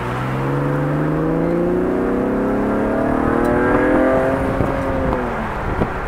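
Metallic grey Chevrolet Camaro RS convertible driving and revving, engine note climbing steadily through the gears, loud and close from inside the car with a continuous rising whine.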